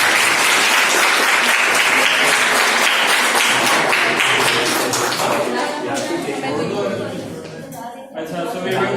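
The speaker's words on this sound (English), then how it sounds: "Before they leave, clapping for everyone." An audience at a parliamentary-style debate session breaks into loud, sustained applause that fills the room, then gradually thins and fades out toward the end.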